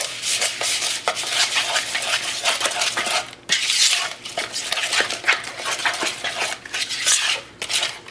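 Spoon or whisk stirring a sugared salad dressing in a bowl, a steady run of clinking and scraping strokes against the dish, close and fairly loud with short pauses, no talking.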